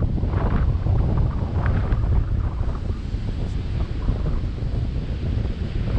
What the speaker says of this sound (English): The wind is horrible, so I hope you can still hear me.